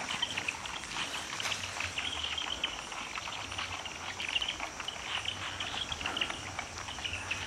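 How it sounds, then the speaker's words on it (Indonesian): Night chorus of frogs at a spooky outdoor palace site, a dense, continuous chirping and croaking drone that stays loud and steady throughout, with no voices. "Suara kodok berdecit sangat kenceng sekali."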